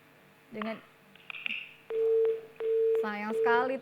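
A telephone line tone sounds after a call to a TV station drops, coming in long steady bursts with a voice talking over and between them.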